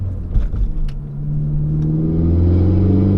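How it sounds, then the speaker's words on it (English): Engine note of a 2016 Ford Focus ST hot hatch pulling in third gear, rising steadily and growing louder as the revs build, heard from inside the cabin with no talk. "I just gave it a little bit of gas in the third gear there, and it just pulls"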